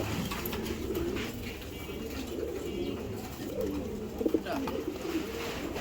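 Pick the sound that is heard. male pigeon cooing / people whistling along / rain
male pigeon cooing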